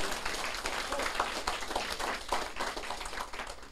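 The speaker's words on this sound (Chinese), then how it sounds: "大家个秘书长掌声鼓励" An assembly audience gives applause for a secretary-general at a closing address, a continuous round of many hands clapping at moderate distance, steady throughout.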